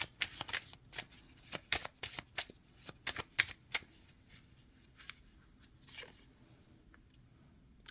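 Tarot cards being shuffled and drawn from a deck, a rapid series of crisp riffling and snapping flutters in quick bursts, close and fairly quiet, with no talking.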